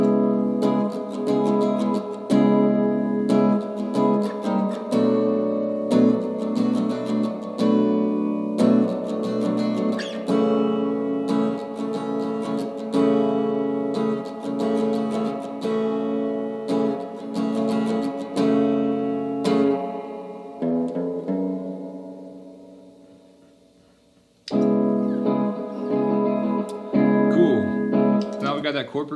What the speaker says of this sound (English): let's go ahead and loop those chords that we learned so you guys know what it sounds like